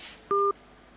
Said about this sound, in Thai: อ้าวใครจะโทรเข้ามา